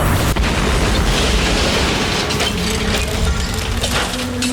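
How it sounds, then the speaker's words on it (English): A loud, sustained crashing boom fills the whole stretch as a chameleon bursts through a glass-domed ceiling, a dense wall of rumble and breaking debris with no pause. "the Kaluma Parsoni chameleon exploded through the glass-domed ceiling"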